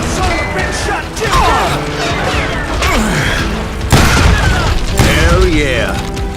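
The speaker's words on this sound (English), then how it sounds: "That scatter gun was like a double-barreled howitzer." Shotgun blasts boom in the Call of Juarez: Gunslinger video game, with heavy, loud shots landing among dense gunfight noise and character voices talking over the action.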